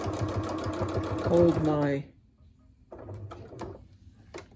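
Sewing machine stitching a sensory baby toy runs in a fast rhythmic burst for about two seconds, then stops; a voice speaks briefly over the start, followed by quieter handling clatter.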